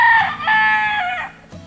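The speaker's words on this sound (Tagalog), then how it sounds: "manok ni Alduin." A rooster crows loudly and close by, a long drawn-out call lasting over a second, followed by a brief cluck, heard outdoors on a rural walk.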